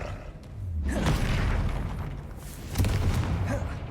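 A Confringo blast spell in the wizarding game Hogwarts Legacy bursts with a deep booming explosion, followed a moment later by a second heavy thump and rumbling tail, loud and close.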